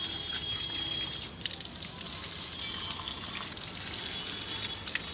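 Potted rose plants are watered, producing a steady, close hiss and splash of running water onto soil with small irregular bursts.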